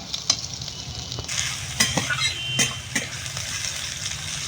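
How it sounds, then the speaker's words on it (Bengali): Potatoes being stirred into fried onions in a pan, with steady sizzling and several sharp scraping strokes of the spatula, close and clear. "আলুটা একটু নেড়ে দিলাম"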